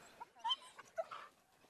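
An injured street dog with a broken leg that was in a plaster cast whimpers in a few faint, brief whines and yips close by in a quiet space.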